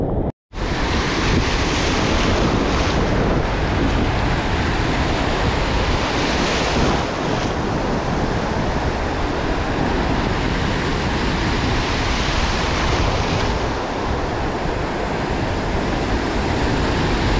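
Loud, continuous roar of strong ocean waves crashing and surging, with heavy wind buffeting the microphone throughout and no voices.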